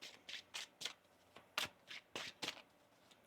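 Tarot cards being shuffled by hand, a quick series of about nine crisp riffling bursts in an uneven rhythm, close and fairly quiet with no talking.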